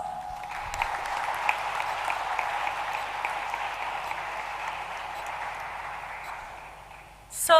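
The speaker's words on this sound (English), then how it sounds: "Shall we all give him a round of applause?" Applause from a convocation audience greeting the guest of honor at a college graduation ceremony, a steady wash of clapping that sustains for several seconds, then thins and fades near the end before a brief louder burst.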